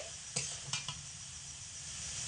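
Spice paste for aloo posto stir-fried on medium heat, a soft, steady sizzle close by with a few quick scrapes of a spatula against the pan early on.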